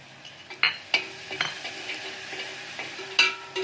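Grated coconut with whole spice masala fries in a pan over a soft sizzle, with sharp scraping and clinking strokes of a stirring spoon at irregular intervals.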